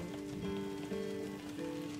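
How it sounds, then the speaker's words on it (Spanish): Faint, steady patter of rain under a low, sustained tonal hum, quiet and unchanging throughout. "parece que va a empezar a llover"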